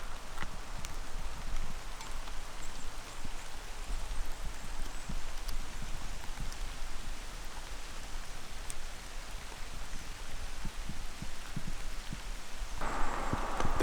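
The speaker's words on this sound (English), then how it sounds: "And of course it starts to rain," Rain falls outdoors around an abandoned school in Norway, a steady broadband hiss with scattered drops and patters that holds at an even level throughout, growing slightly denser near the end.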